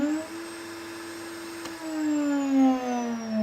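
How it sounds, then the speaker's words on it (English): A Gifkins dovetail jig machine runs on a table, giving a steady high motorised whine with table vibration that shifts in pitch as the machine slows toward the end, loud and close. "You'll hear the vibration as it slows down because I haven't finished yet."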